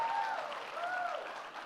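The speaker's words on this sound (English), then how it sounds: "Before we go on, another round of applause for Pierre-Louis" Conference audience applause fills the short stretch, a steady wash of many hands clapping at moderate level, with a presenter's voice briefly sounding over it.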